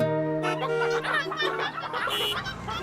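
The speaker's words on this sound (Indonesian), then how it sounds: "Ayam-ayam dari truk menghalangi lalu lintas." Cartoon chickens loose from a truck blocking traffic cluck and squawk in a busy overlapping flurry, close and lively, with no talk over them.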